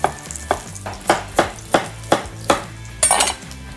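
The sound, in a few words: chopping vegetables roughly on a board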